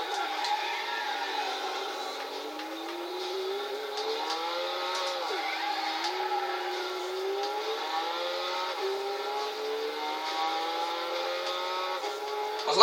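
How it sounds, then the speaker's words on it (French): Autobacs Arta Garaiya race car engine in Gran Turismo 6, a steady high-pitched whine rising and falling through gear changes, heard alone at moderate volume with no talk over it. "le bruit de la voiture il est pas vilain"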